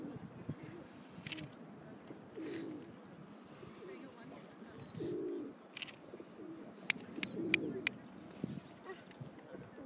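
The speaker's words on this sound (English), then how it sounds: "Pigeons." Pigeons coo softly in short low bursts amid quiet outdoor ambience at a place with swans and other birds, with faint higher chirps and occasional voices.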